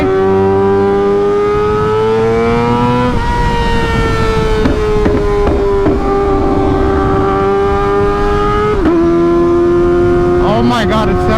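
A Kawasaki ZX-4RR motorcycle engine revs hard near its limit, a loud close high-pitched scream held in long sustained pulls, broken by sharp exhaust pops and bangs between revs, with a voice talking over it.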